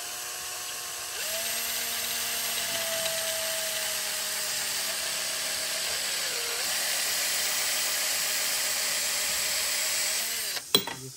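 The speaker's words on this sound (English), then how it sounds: "We're going to drill a hole." A power drill bores a hole through a motorcycle handlebar on a CFMOTO while fitting a heated hand grip, whining steadily and close for about ten seconds, its pitch dipping under load, before stopping with a brief clatter.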